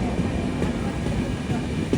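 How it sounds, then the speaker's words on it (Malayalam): Train rolling past on the busy four-track Mumbai-Pune line, a steady, close rumble of wheels and carriages with faint rhythmic clatter, continuous for the whole stretch. "4 ട്രാക്കിലും ട്രെയിൻ തന്നെയാണ്"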